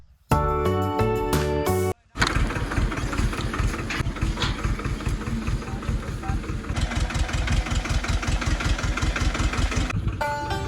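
A small mini tractor on a farm, its engine running with a steady thumping idle rhythm, loud and close, preceded by a brief burst of music, with no talk.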